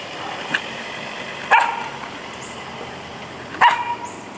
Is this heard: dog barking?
yes